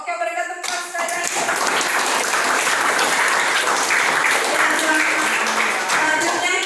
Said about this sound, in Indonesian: Oke, berikan tepuk tangan sekali.